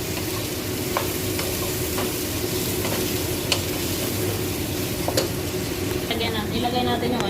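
Meat fries in a pan until browned, a loud dense sizzle running unbroken, with occasional crackles and pops over a low background hum.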